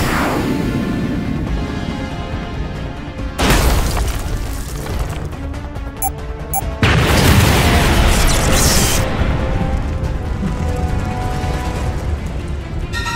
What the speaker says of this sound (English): Get ready to drop the bomb.